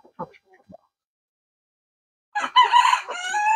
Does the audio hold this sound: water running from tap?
no